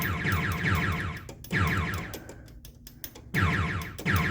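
Electronic sound effects from a Gottlieb Bounty Hunter pinball machine: warbling, siren-like bursts that repeat in several loud chunks separated by brief quieter gaps, close and alone.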